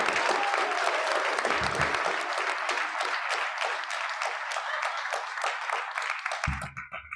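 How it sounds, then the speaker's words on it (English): Audience applause for the women being honoured at a League of Women Voters event, a dense steady clapping that carries across the whole stretch before tapering off near the end. "let's give a round of applause for those women that are still rocking it"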